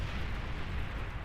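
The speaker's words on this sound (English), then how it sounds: "Oh, the explosion though." A video game explosion rumbles as a sustained low, dense roar that fills the short span at a steady, moderately loud level with no voices.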